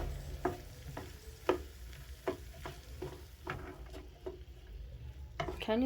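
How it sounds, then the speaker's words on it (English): Vegetable fried rice with pre-boiled rice being mixed in a pan: soft background sizzle under repeated spatula scrapes and knocks against the pan, fairly quiet and close. "Mix in very well."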